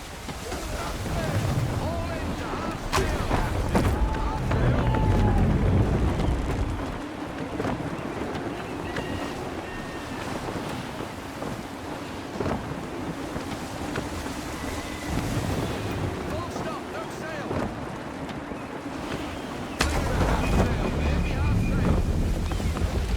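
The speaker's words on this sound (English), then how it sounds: "Gusty winds can be difficult to manage." Gusty sea wind buffets a sailing ship in Assassin's Creed III, a steady roaring rush with creaking hull and surf beneath, swelling and easing over time, with a sudden louder gust near the end.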